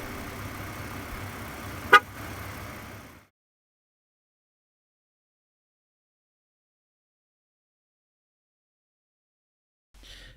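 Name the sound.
2017 Nissan Pathfinder beeping when tire is full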